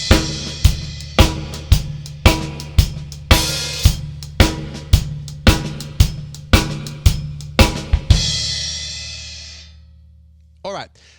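A basic blues shuffle groove on a drum kit, hands and feet playing together: steady swung hits with kick and snare accents repeating for about eight seconds, then a cymbal left ringing and fading, with a short noise at the very end.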